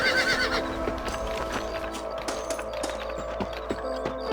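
In Red Dead Redemption gameplay, a horse whinnies loudly at the start, followed by steady clip-clopping hooves trotting along with faint background ambience.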